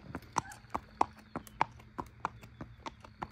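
A quarter horse gelding, around fourteen or fifteen years old, walks with a steady, evenly spaced clip-clop of hooves on firm ground, close by, with a faint voice in the background.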